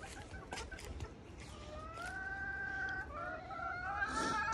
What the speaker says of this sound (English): bantam chickens. So they lay little tiny eggs.